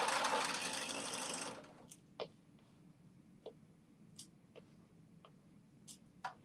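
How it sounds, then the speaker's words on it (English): A sewing machine stitches across a pant pocket, a loud whirring run that stops after under two seconds, followed by faint scattered ticks and clicks. "Sewing the bottom across the pocket."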